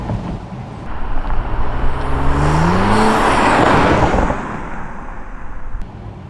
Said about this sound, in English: Let's see if I accelerate again. It's definitely audible.